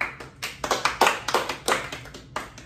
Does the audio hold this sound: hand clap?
yes